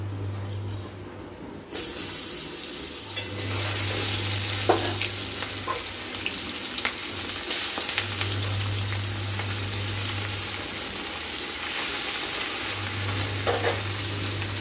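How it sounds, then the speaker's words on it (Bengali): Bata fish fries loudly in hot oil, a continuous close-up sizzle and hiss with scattered crackles and spits. No one speaks. "সবগুলো মাছ আমরা লাল লাল করে ভেজে তুলে নেব।"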